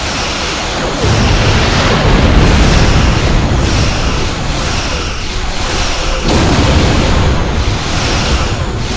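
Heavy booming blasts from torpedo impacts rumble through a Star Trek space combat game, several deep explosions rolling one into another at loud, sustained volume with no talking.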